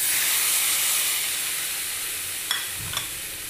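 Tomatoes go into a hot pan of frying okra and ivy gourd, bringing a loud, steady sizzling hiss throughout, with a couple of soft knocks and a little stirring toward the end.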